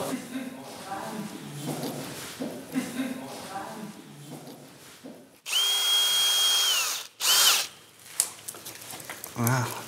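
A power drill bores into a masonry wall, choosing between brick and mortar joint, a loud continuous whine lasting over a second, then a short second burst, with German speech before and after.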